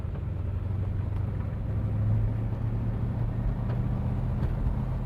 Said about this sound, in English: Great sounding exhaust on the car also. She's got a nice rumble to her, but she's not too loud.